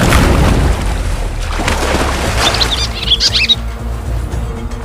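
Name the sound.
birds squawking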